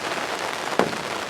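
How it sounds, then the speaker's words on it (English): Steady rain falls outdoors in spring woods during a turkey hunt in West Virginia, a close, even hiss with one brief louder patter partway through and no voices. "It started raining again."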